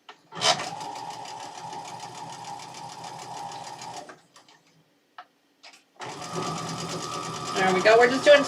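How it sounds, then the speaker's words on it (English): A sewing machine stitching fabric strip sets in straight lines runs in a loud, steady whir for several seconds, pauses briefly, then starts up again. A voice talks over the restart. "All right, let's get to sewing."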